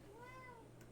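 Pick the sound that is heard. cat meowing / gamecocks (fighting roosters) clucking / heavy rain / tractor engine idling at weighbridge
cat meowing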